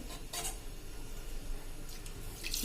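Water runs and splashes into a cooking pot for khichdi close by, a soft continuous pour with a couple of light metallic clinks.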